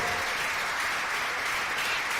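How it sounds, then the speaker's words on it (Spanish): A church congregation applauds in a steady, even wash of clapping during a Sunday sermon that holds at the same level throughout, with no voices on top. "Dele ese aplauso a Cristo"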